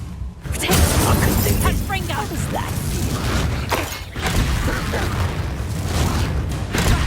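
The Incendio fire spell is cast in the video game Hogwarts Legacy, giving loud whooshing bursts of flame and combat crashes over busy game sound, with a voice talking over it.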